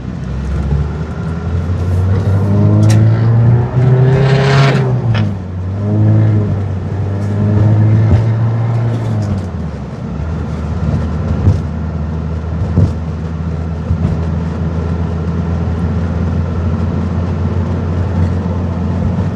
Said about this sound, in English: Okay, we're going on a quick test drive here.